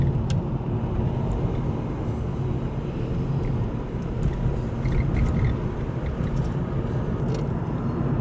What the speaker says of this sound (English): School bus.